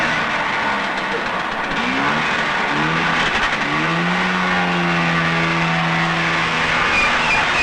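A loaded farm truck pulls away, its engine rising in pitch as it accelerates through the gears, loud and close over a steady background rumble.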